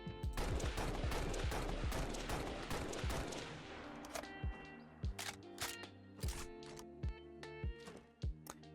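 A DMR rifle from a Fallout 4 weapon mod fires a fast burst of shots, then slows to single cracks with mechanical clicks between them. The gunfire is loud and close in a video game.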